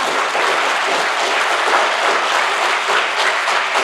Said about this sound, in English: Please, a big applause for Neoquizera